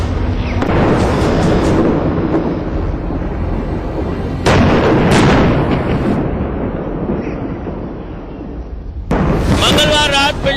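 Soldiers fire at militants hiding in the EDI building in Pampore, Pulwama, Kashmir, during a long siege: loud, booming bursts of gunfire and blasts under a narrator's voice, with sharp hits near the start, middle and end.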